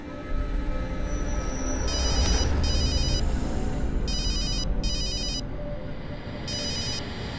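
A telephone rings in repeated bursts of electronic trilling, over a steady low background rumble.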